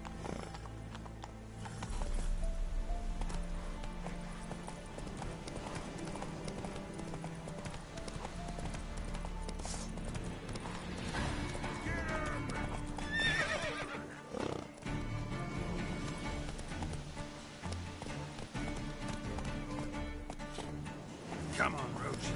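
In The Witcher 3, the horse Roach gallops with rapid clip-clopping hooves and lets out neighs, heard over layered game music and effects for the whole stretch, with a voice speaking at times.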